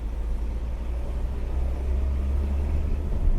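An old Citroen DS engine rumbles low and steady as the car accelerates in second gear, a deep continuous drone heard from inside the car, slightly swelling toward the end.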